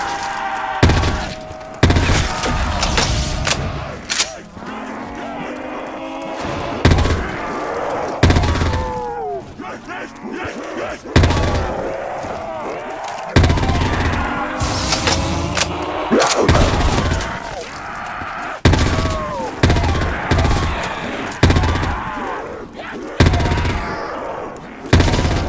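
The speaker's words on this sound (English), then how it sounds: "I'll keep shooting." Gunfire in Black Ops 3 custom zombies on the EFT Factory map: dense bursts of automatic shots and booming blasts, loud and near throughout, with voices talking over the shooting.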